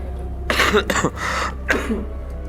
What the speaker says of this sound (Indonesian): Maaf ya, saya agak jadi batuk nih.